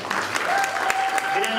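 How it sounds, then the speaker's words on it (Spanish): An audience claps at a comedy roast, a steady wash of applause from a crowd filling the brief moment with voices mixed in. "démosle un aplauso a Germán, por favor."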